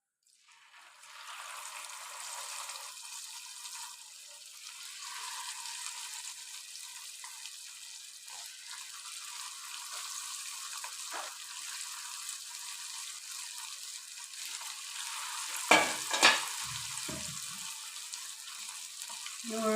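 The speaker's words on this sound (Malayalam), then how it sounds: "ഇറച്ചി പൊരിച്ചെടുക്കാം" Chicken pieces fry in hot oil, a constant close hiss that swells after a quiet start, broken by a couple of brief clunks near the end; no clear talking.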